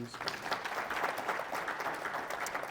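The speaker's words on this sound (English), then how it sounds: "Can we have a round of applause for that, please?" Audience applause at a real estate investing convention talk, a steady wash of clapping from a seated crowd that holds at an even level throughout, moderately distant.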